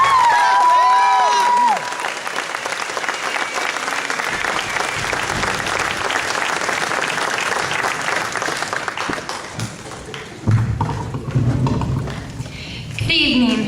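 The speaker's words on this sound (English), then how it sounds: "give a big round of applause to the valedictorian of the class of" Applause at the Atlanta Community Schools class of 2013 graduation ceremony as the valedictorian is introduced, a dense crowd clapping loudly from the start, with cheers and scattered voices, thinning and turning patchier toward the end.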